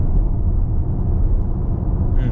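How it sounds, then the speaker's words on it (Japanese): Volkswagen ID.4 Pro Launch Edition electric car accelerating gently in Comfort mode, a steady, loud, low rumble of road and tyre noise inside the cabin with almost no motor whine. "コンフォートでちょっとアクセル踏んでいきますよ"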